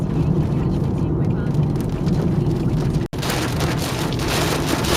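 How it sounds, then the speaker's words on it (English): Heavy rain in Port Campbell, Victoria, a steady dense roar of downpour on surfaces that fills the whole stretch with a brief dropout midway, sounding close and loud. "is a video of the rain in Port Campbell. This is how heavy it can rain."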